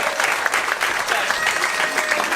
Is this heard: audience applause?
yes